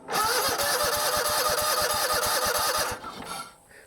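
A John Deere GT245 lawn tractor engine cranks over without choke in a fast, even chugging rhythm for about three seconds, then stops abruptly without catching, heard up close.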